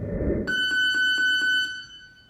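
A workout interval timer alarm sounds during a kettlebell and bodyweight HIIT session, a loud, close electronic beep pulsing about five times in quick succession, heard alone.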